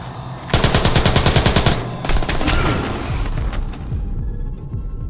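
Automatic gunfire in Splinter Cell Blacklist multiplayer: a loud, rapid rattling burst of shots for about a second and a half, followed by more scattered firing and impacts that fade out toward the end, with no talk.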